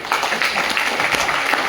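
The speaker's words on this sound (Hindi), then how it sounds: "एक बार जोरदार ताली बजा दें।" A seated audience at a business talk claps loudly on cue, a brief dense burst of hand-clapping with no voices over it.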